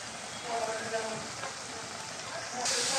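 Ground spices with turmeric and salt frying in oil in a pan for a pangas fish curry with potatoes, a steady close sizzle with faint stirring, under no clear talk.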